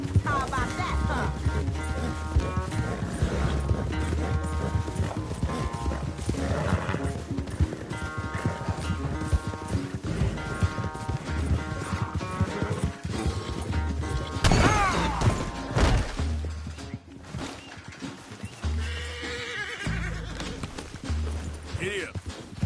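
Horse hooves clip-clop steadily in Red Dead Redemption 2, mixed with a brief neigh, music and people talking over the continuous gallop.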